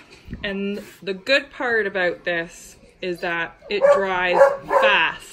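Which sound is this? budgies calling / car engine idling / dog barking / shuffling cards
dog barking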